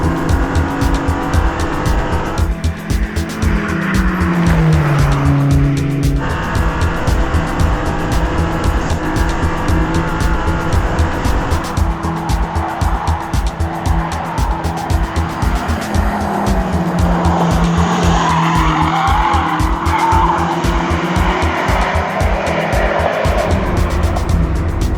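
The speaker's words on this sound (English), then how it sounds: "is the perfect car to run up Pikes Peak because 738 horsepower" A 738-horsepower BMW XM charging up the Pikes Peak hill climb: steady heavy engine roar with rapid pulsing, revs rising and falling through the corners, recorded close throughout with no pauses.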